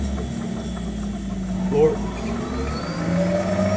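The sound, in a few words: Club Car 48 V golf cart accelerating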